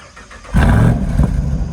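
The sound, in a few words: Jeep Wrangler Rubicon 392 cold start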